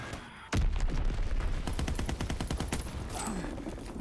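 Gunfire in Call of Duty: WW2 multiplayer: a sudden loud shot followed by a sustained stream of rapid automatic cracks, near and dense, fading into game ambience with scattered distant noise.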